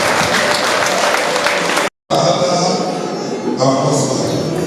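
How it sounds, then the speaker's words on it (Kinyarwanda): Wedding guests applaud at a civil marriage ceremony, dense loud clapping that cuts out abruptly for a moment, then resumes just as full, with some voices mixed in. "Mukomere Imana amashyi menshi cyane."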